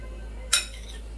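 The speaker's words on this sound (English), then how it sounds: "Stir this up." A single short metallic clink of a utensil against a pan or bowl while mixing tofu chow mein ingredients with Cajun seasoning, close and crisp over a low steady hum.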